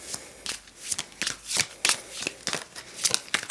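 A gold-edged tarot deck is shuffled by hand, giving a quick run of crisp riffling bursts and soft card slaps, close and loud with nothing else behind it.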